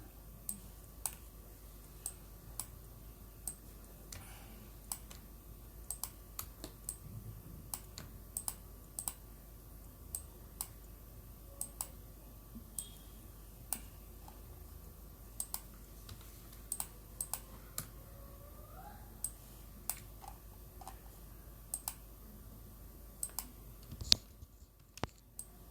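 Light, scattered keystrokes on a computer keyboard while entering a series into an Excel spreadsheet, quiet irregular clicks over a faint background hum with no talking.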